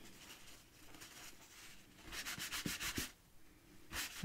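A tea-stained surface rubbed by hand, soft scuffing strokes that grow into a quick run of brisk rubs, faint and close.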